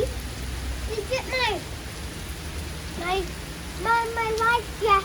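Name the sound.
rain falling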